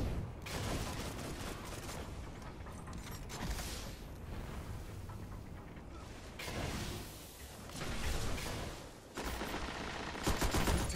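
Rapid gunfire bursts and mechanical weapon sounds from a Crucible match in the video game Destiny, loud and continuous with several rattling volleys over busy game noise.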